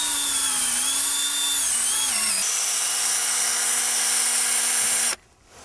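An electric drill bores a hole into a maple tree, a loud steady high whine close by that dips briefly as the bit bites, runs on for several seconds, then stops abruptly.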